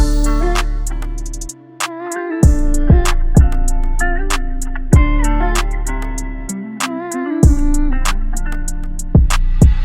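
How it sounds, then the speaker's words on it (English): A loud, punchy music beat with steady kick hits, plucked melodic notes and sharp percussive accents in a looping pattern, no voices. "the beat that I use in the background for most of my videos"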